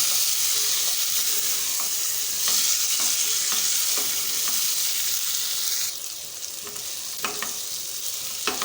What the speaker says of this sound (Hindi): तो पहले हम आलूओं को थोड़ा सा इसी तरह से भून लेंगे।